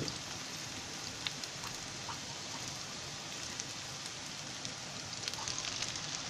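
Pointed gourd slices frying in oil in a pan over low gas, a soft, steady sizzle with scattered small pops and crackles, fairly faint and without talk.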